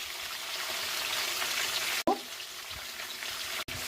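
Spices crackle and sizzle steadily in hot oil: sesame seeds, curry leaves, ginger garlic paste, coriander seeds, roasted gram, turmeric and chili powder frying close up, with a couple of brief cut-outs.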